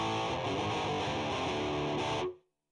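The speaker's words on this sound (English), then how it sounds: "And now I'm on distortions." Heavily distorted electric guitar played through a Zoom R8 recorder's distortion effect, a thick sustained chord ringing loud and steady for about two seconds before cutting off abruptly into silence.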